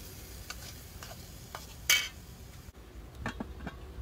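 Pork being stirred in a hot pan with fragrant sautéed shallots and lemongrass, with soft sizzling, a utensil scraping and clinking against the pan, a sharp clink near the middle, close and moderately quiet.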